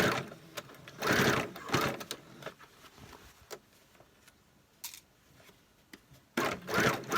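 A sewing machine stitches the waistband of low-rise trousers being converted to high-waisted, running in several loud whirring bursts separated by quieter pauses.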